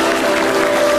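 Audience applause fills the room in a dense, steady wash of clapping, loud and close throughout, with no talk over it.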